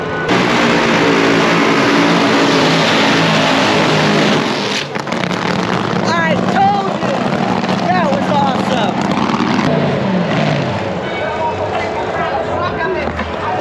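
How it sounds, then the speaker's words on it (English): A nitro funny car engine revs very high on a drag strip at night, a loud roaring blast that fills the stretch with a dip midway while people talk over it. "the engine was revving up super high and the oil pressure was getting too high"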